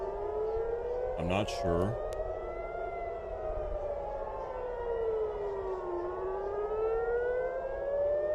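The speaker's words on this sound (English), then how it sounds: "Non-stop sirens and massive explosion sounds in the city center of Tel Aviv." Civil defense sirens wail continuously over Tel Aviv during a missile attack, their rising and falling tones sustained and loud throughout, with a brief burst of other noise early on and a voice speaking briefly.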